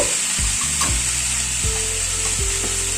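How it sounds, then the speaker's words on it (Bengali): Chicken being fried with spices in a pan, a constant strong sizzle heard close, with a few faint scrapes of stirring and a low hum underneath. "এবার চিকেনটাকে মশলার সাথে কষিয়ে নেব।"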